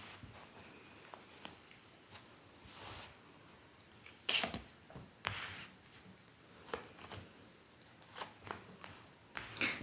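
A tarot deck being shuffled by hand in a quiet room, with soft irregular riffles, card flicks and slaps in scattered bursts, one sharper snap partway through.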